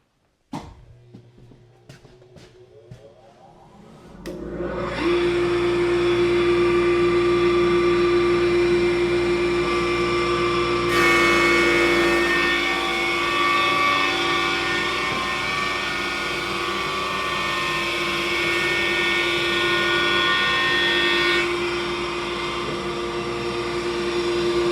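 A shop dust collector starts up after a few seconds of quiet clicks and settles into a loud steady roar with a droning hum. It serves an Oliver 10055 bench top planer working white oak.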